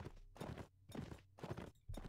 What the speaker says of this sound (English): I don't like messing around with a bunch of horses.